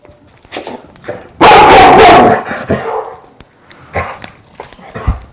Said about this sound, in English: So is that a bark?